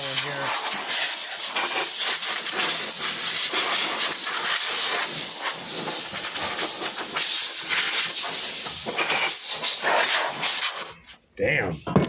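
A Harbor Freight Central Machinery air compressor, charged to about 60 psi, blasts pressurized air in a loud, continuous hiss that cuts off abruptly near the end, with a person talking.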